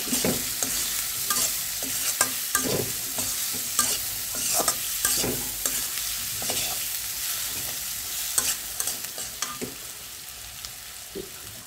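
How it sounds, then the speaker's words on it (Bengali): Onion, green chilli and chilli powder stir-fried in a pan for a potato and baim eel curry, with steady sizzling under repeated scraping stirs and clinks throughout, no talking. "এটা এখন আমি সুন্দর করে কষিয়ে নেব।"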